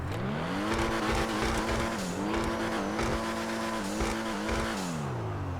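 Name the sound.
car engine driving in a video game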